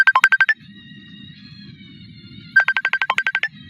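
A phone ringtone plays two bursts of rapid, evenly pulsed electronic beeps, each lasting about half a second, with a steady ringing tone and low rumble filling the gap between them.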